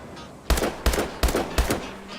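A BAL-27 rifle in Call of Duty Advanced Warfare fires four sharp, loud shots at an even rhythm roughly a third of a second apart, each with a brief echoing tail, with no talking.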